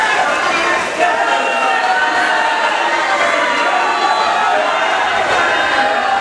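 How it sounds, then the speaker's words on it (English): Crowd at a boys' swimming sectional preliminaries meet keeps up a steady, loud wash of cheering and chatter from start to finish, with no single voice standing out. "Hear the crowd getting into it a little bit more."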